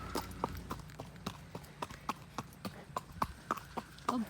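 A ridden horse's hooves clip-clop in a steady, even rhythm, each strike sharp and close, with light background noise and no talking.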